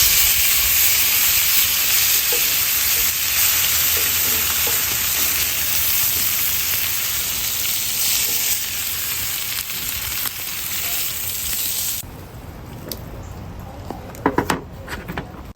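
Sous vide mini steaks sear in butter in a hot pan, a loud, steady close sizzle and hiss that drops sharply near the end, followed by a few light clinks of cookware.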